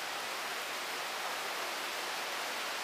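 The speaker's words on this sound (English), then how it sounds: "that is rain." Steady tropical rain falls as a dense, even hiss of rain on surfaces, continuous and unbroken, with no voices over it.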